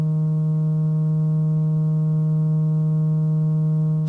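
A PAL Atari 2600 console holds its flat E3 note, closer to D sharp, as a continuous buzzy harmonic tone, steady and unbroken for about four seconds with no other sounds.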